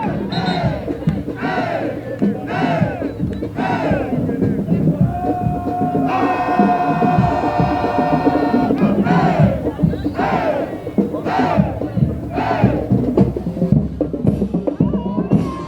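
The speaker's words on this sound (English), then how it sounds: "they're doing a cheer and they're letting you know it's homecoming" A marching group in a university homecoming parade shouts a loud rhythmic cheer in unison, with repeated chanted phrases over crowd noise outdoors.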